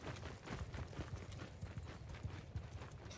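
Horse hooves clip-clop steadily and rapidly in the battle video game Bannerlord, loud and continuous throughout over dense background noise, with no talking.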